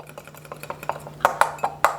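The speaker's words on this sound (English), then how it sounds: "Stir that thing up." A spoon stirring hot cocoa powder mix in a bowl or cup: a quick run of light taps and scrapes with a few sharper clinks, close and quiet, over a low steady hum.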